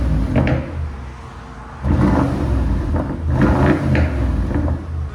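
A 2015 BMW X6 M with a 4.4-litre twin-turbo V8 and a deleted muffler revs in loud, close surges, rising and falling in several bursts of throaty roar.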